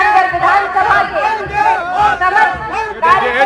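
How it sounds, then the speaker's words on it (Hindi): Large, loud crowd at a rally for BJP candidate Santosh Meghwal, cheering and chanting in rhythmic surges that swell and fall repeatedly, close and dense throughout. "ऐतिहासिक भीड़ और उत्साह देखते ही बन रहा है।"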